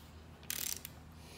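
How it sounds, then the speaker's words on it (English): Torque wrench set to 20 foot-pounds ratcheting while tightening bolts during a Yamaha 30HP outboard motor overhaul, a short burst of quick close clicks followed by one faint extra click in a quiet room. "I got my torque wrench set at 20 foot pounds of torque"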